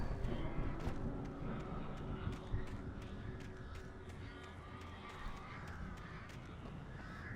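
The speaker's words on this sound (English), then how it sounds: "Oh god, I can hear the birds." Crows caw repeatedly in the background over a steady low rumble in the game Alan Wake, the calls scattered and moderately faint throughout.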